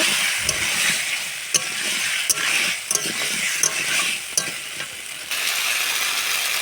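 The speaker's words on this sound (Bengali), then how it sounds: "কেটে রাখা কুমড়ো আলু দিয়ে ভালো করে কষিয়ে নেব" Diced pumpkin and potato being stir-fried with spices in a pan, giving a steady close sizzle with scattered sharp clicks and scrapes of stirring, no talking.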